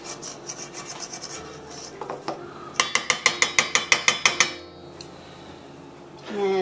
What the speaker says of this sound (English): take my spoon and scrape the sides of the pan, or the bowl I should say